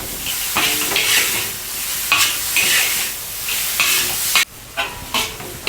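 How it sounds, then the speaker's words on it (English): Salt and pepper shrimp being stir-fried with red pepper in a hot wok: steady sizzling and hiss broken by several quick stirs and flips, loud and close, with no talking. "Have a few quick stirs and flips."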